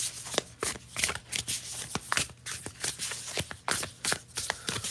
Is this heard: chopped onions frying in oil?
no